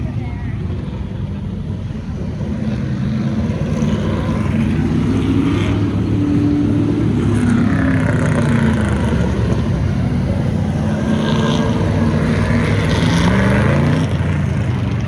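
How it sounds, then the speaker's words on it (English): Corvettes run an autocross course at a Goodguys hot rod show in Columbus, Ohio, a continuous low engine rumble with passing revs, heard at a distance while people talk over it. "I've never seen so many cars on autocross before"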